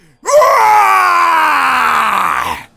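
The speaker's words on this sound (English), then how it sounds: "Beerus starts screaming." An anime character, Beerus, unleashes one long, loud, sustained scream while powering up, his voice holding steady for more than two seconds before it cuts off.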